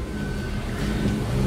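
Chevrolet Prisma 1.0 or 1.4 engine fitted with a conical sport intake filter, running with a steady low, throaty rumble that builds slightly in the second half, close by with no talk.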